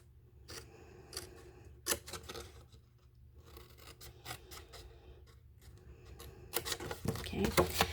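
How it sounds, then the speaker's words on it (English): Scissors snipping around a paper rectangle for a handmade Mother's Day card, a series of crisp irregular cuts and papery rasps close up, growing busier and louder toward the end. "Normally, I just grab my scissors."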